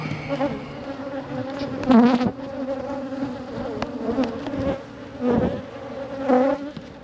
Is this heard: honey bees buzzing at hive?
yes